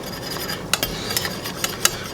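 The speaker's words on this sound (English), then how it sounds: "whisk with the whisk and get it moved in there until it thickens up" Flour is whisked into boiling roast liquid to make gravy, the whisk scraping and clicking against the pot in quick, uneven strokes over a soft bubbling background.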